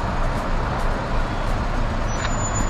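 Inside a moving ethanol-or-gas car in Brazil, a steady loud rumble of engine and road noise fills the cabin, with a brief high whine near the end.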